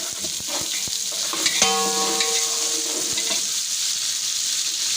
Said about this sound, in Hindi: प्याज जो है इनको करेंगे हम लाइट ब्राउन